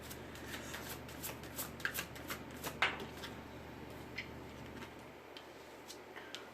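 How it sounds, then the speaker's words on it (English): Tarot cards shuffled and dealt onto a table, a soft continuous riffle of card slaps and light clicks, quiet and close, with no talk. "I'm going to finish dealing them out"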